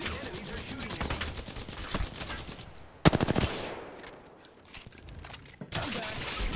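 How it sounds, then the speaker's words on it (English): Enemy gunfire in Apex Legends, with rapid automatic fire rattling over several seconds, a sharp loud volley in the middle, then more shots resuming after a brief lull. "The enemies are shooting at me."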